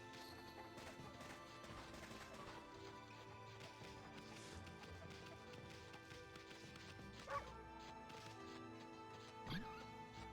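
In the Okami video game, a dog barks in short sharp yaps amid game sound effects and thumps, fairly faint, with a couple of louder hits standing out.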